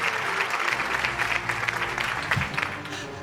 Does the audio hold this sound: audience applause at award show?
yes